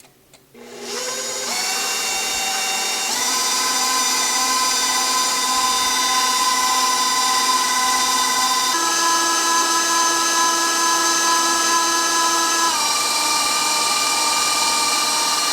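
An electric mixer with an attachment whips butter, sugar and egg whites for a strawberry mousse cake. It makes a steady, loud, close whine that holds for the whole stretch, and its pitch shifts a few times as the speed or the mixture changes.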